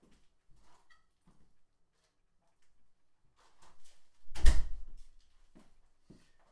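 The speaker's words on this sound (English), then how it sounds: "that was the sound of the door shutting" A single solid thud of a door shutting nearby, preceded by faint shuffling and a soft creak, then quiet.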